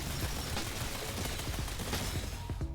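Explosive-round gunfire in Black Ops 6 Zombies rattles in a dense, continuous barrage of booming shots at moderate level, with no voices over it.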